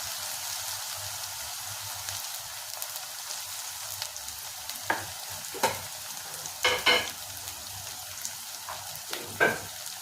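Tomatoes fry with ginger garlic paste in a pan for mushroom biryani, a soft steady sizzle broken by several sharp spoon scrapes and clinks of stirring, close and without talk.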